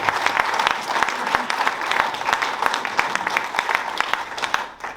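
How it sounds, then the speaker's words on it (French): Sustained applause fills a room at a political meeting for the European elections in Beaune, dense steady clapping from a large crowd that thins slightly at the very end. "puis tous nous applaudir"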